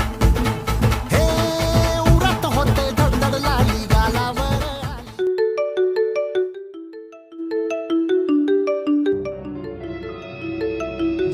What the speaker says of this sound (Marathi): आयला फोन आला वाटतंय.